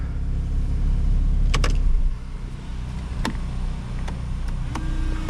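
Car reversing back into its parking spot, a steady low engine rumble close by with a few sharp clicks and knocks over it, no voices.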